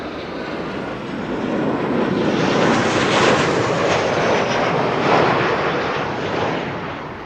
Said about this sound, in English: Ryanair flight 3006 arriving from Dublin in Ireland. 737-800.